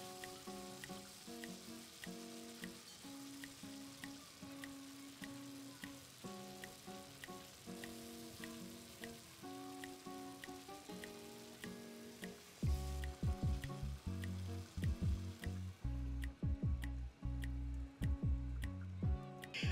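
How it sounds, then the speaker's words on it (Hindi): Steady sizzling and crackling of potatoes frying in a pan, with rhythmic background music playing throughout. "अभी मैं आलू को डाल के 2-3 मिनट के लिए अच्छी तरह सेक लूँगी"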